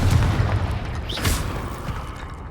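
Confringo blasting spell in the video game Hogwarts Legacy: a loud, dense boom with a rumbling low end and a crackling burst that fades out over a couple of seconds.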